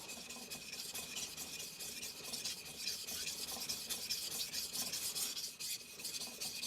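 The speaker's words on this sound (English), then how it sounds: "Now that's lifted that up, and you just sharpen, quote, like normal. Again, this is my Chosera 400." A single-bevel Tsubazo deba knife is sharpened on a Chosera 400 whetstone, giving a steady, close, gritty scraping of repeated back-and-forth strokes with no talk.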